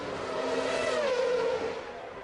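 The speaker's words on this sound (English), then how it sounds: "Nigel Mansell is exiting the Rascasse up towards the start and finish line into lap 74." A Formula One car at the 1992 Monaco Grand Prix accelerates out of the Rascasse corner toward the start-finish line, its loud, high engine whine holding steady before the pitch bends and shifts, with no talking.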